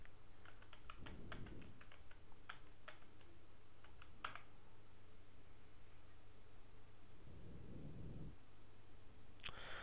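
Quiet, sparse clicks of a computer keyboard as a web address is typed, close but faint over a steady low hum, with a couple of soft low thumps in between.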